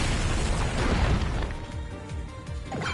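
Dark Side Quake attack in the game Digimon Story Time Stranger: a loud, dense rumbling blast with a heavy low boom at the start, fading into a series of deep thudding impacts.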